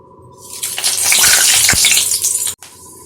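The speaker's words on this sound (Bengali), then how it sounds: "তেলের মধ্যে গোটা গরম মশলা দিয়ে দিয়েছি।" Whole garam masala (cardamom, cloves, cinnamon, black peppercorns and bay leaf) hits hot oil in a wok with a loud, bright sizzle that swells for about two seconds, then cuts off abruptly.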